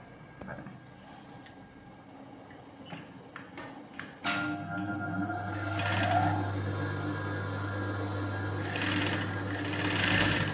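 Sewing machine stitching the piping edge of a blouse: a few ticks and clicks, then a steady close whirring run of stitches with a sustained motor hum that continues to the end.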